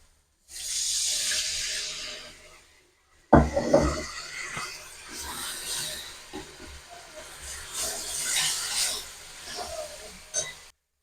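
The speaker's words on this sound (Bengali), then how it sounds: "একটু জল দিয়ে দেবো, অল্প সামান্য জল দেবো" Water poured into spice paste frying in a pan for an egg omelette curry sets off a loud, steady hiss and sizzle. Two sustained bursts are broken by a short pause, with no talking.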